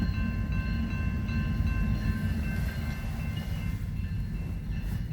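A northbound BNSF freight train passes through Napavine, Washington, its loud continuous rumble and rolling rail-car noise with steady squealing tones filling the whole stretch, close by and without talk.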